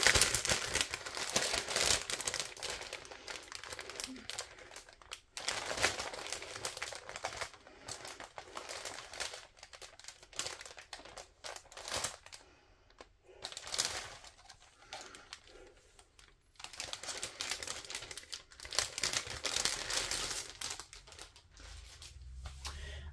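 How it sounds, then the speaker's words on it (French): Crinkly plastic packaging being unwrapped around a parcel of off-white embroidery fabric, with steady crumpling and rustling bursts broken by brief pauses, close and fairly loud, no talking. "Je vais déballer et vous montrer."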